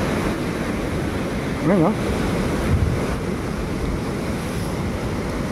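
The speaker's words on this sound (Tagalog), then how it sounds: "Dumadagundong yung hampas ng alon dito sa Siwol, eh." A steady, heavy roar of surf and wind after a typhoon fills the clip at Siwol, waves booming on shore, with a brief voice speaking near the start.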